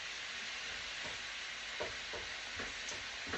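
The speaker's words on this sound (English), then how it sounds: "the frying pan's full of mince, nice and full." Minced meat sizzles steadily in a full frying pan, with a few soft scraping stirs breaking through the constant frying hiss.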